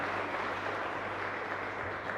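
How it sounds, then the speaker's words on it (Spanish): A congregation applauds its community during a live Epiphany Mass at the Caacupemi chapel. The clapping is steady and dense, filling the whole moment without pause, and no voices stand out. "Y un fuerte aplauso entonces para nuestra comunidad."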